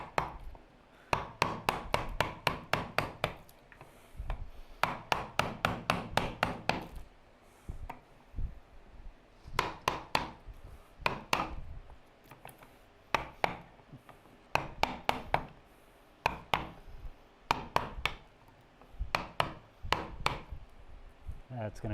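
Chisel work on a wooden bench hook blank with a knot in the middle: bursts of sharp, rapid taps and chops in quick runs, separated by brief pauses, close and fairly loud.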